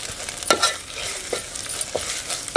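Goda masala gets stir-fried in a pan at home, a close sizzling hiss punctuated by several sharp scraping strokes of a spoon against the pan in an uneven rhythm, with no voices.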